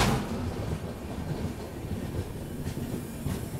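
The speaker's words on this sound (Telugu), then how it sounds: "ట్రైన్ ఆగుతుంది, మనం ఇంకా ప్లాట్ఫామ్కి దగ్గరలో ఉన్నాము." Golconda Express train slowing near Kondapalli station, a steady rumble of rolling wheels and carriage noise with no voices, fairly quiet and continuous throughout.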